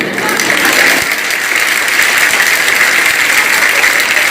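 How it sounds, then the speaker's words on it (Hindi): A seated audience at a Buddhist women's conference in Hisar claps together, a loud, sustained wash of applause that fills the room without a break. "वो हाथ ऊपर करे और बाकी लोग उनके लिए ताली बजाएं।"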